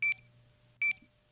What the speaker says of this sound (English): you hear a small beeping.